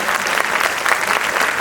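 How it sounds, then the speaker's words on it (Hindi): A brief, loud burst of steady audience applause for Dr. Sharma, dense clapping filling the whole short moment without a break. "एक बार डॉक्टर शर्मा के लिए जोरदार तालियां होनी चाहिए।"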